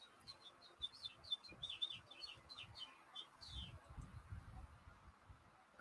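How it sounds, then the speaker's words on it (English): Small birds chirp and tweet just outside a window in quick, bright bursts, fairly faint over a low murmur and soft background rustle. "I keep hearing birds."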